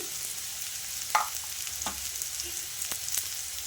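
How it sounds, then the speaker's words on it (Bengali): Pieces of elephant foot yam fry in a pan with a soft, steady sizzle, broken by a few sharp clicks and scrapes of stirring. "একটু ভাজা ভাজা করে নেব ওলটা কিন্তু ভাজা হয়ে গেছে"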